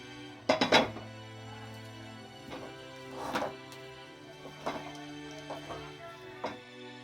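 Cooked vegetarian aloo dum is tipped out of a cooking pan, with a few sharp metallic clinks and scrapes of a spoon against the pan spaced every second or so, close by over a quiet steady hum.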